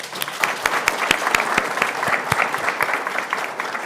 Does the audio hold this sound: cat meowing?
no